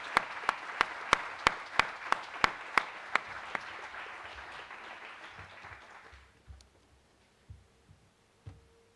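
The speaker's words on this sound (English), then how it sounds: "Please join me in applause for the families of the class of" Applause for graduates' families at a class of 2025 graduation ceremony: a burst of crowd clapping with a few sharp, close claps standing out, fading away after about six seconds into quiet room sound.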